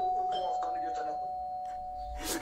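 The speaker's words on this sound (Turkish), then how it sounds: "bir dakika zil çalıyor" A doorbell chimes with a clear sustained ding-dong tone, heard indoors amid faint background voices.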